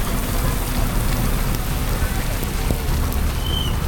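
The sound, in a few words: rain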